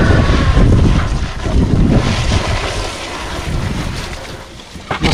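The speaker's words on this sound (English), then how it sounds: "I'm gonna go get the water and hose this down and get it damp." A garden hose sprays water onto a worm bed of shredded newspaper, paper and cardboard, making a loud, steady rushing hiss close to the microphone that eases slightly toward the end.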